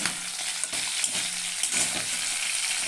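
Loud, steady sizzling of chicken pieces frying in hot oil, with a few soft stirring knocks; close and continuous, no voices.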